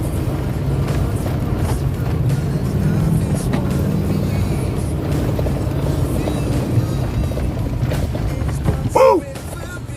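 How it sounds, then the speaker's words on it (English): A car drifting and sliding through deep snow, a steady loud rumbling road and engine noise with scraping texture throughout, a voice and brief clatter near the end. "Oh, we're drifting. We're drifting,"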